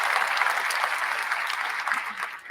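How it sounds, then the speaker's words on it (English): A room full of people applauds a quiz winner at an education event, brisk steady clapping that holds for a couple of seconds and then tapers slightly, with no voices on top. "Let's give him a round of applause as well"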